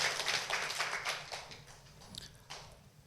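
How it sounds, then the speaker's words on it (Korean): Congregation applause during a Sunday morning church service, soft scattered clapping that starts moderately and fades quieter over about three seconds, somewhat distant. "큰 박수로 우리 찬양도 한번 격려하겠습니다."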